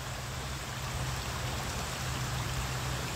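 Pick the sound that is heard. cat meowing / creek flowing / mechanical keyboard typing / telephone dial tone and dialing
creek flowing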